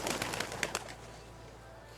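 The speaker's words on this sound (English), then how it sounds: "Releasing doves, a final symbol of peace and love." Doves released at a memorial service give a burst of fluttering wingbeats and flapping in the first second, fading into soft, quieter ambience with a low background hum.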